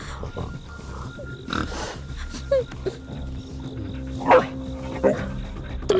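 Wild boar in a forest scene from a dubbed Chinese drama, giving a few short, rough grunts spread over several seconds against a busy background with faint voices.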